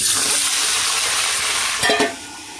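Komola Sundori frying in a pan gives a loud, steady sizzle that fills the whole stretch, with a couple of sharp clattering knocks near the end before the hiss settles slightly.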